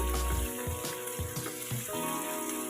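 Cumin powder, chilli and salt being mixed and fried in oil in a pan for a prawn and taro curry, a close, steady sizzle broken by several thumping stirs and scrapes of a spoon, with no talk.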